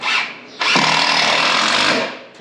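A power drill runs in a short burst, then a longer steady loud whir lasting over a second, close and harsh with no voices.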